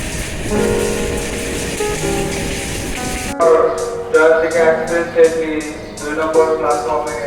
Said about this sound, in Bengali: চলুন ঘুরে আসি জয়ন্তিকা এক্সপ্রেসে করে সিলেট থেকে ঢাকা বাংলাদেশে